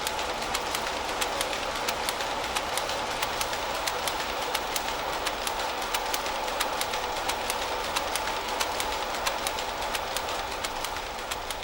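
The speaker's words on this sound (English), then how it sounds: "there's only 2 looms actually working at this moment in time." Steady mechanical clatter of two weaving looms running in a steam-era mill, with rapid regular beats over a continuous industrial din, loud and without talk.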